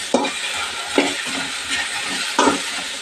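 Okra (bendakaya) curry frying in a pan, a steady close sizzle broken by a few sharp scraping strokes of a spoon stirring it, with no talk.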